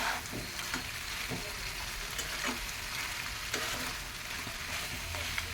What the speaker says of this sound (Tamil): ஒரு ஒரு பக்கமாக இந்த மாதிரி நல்லா கலரி விடணும்